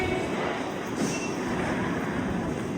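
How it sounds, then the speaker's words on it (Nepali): Rumbling ride aboard a London Underground District Line train, with a steady low rolling roar and faint high whine continuing throughout, near and loud, without speech. "त्यो ड्राइभर नभएको ट्रेन चाहिँ"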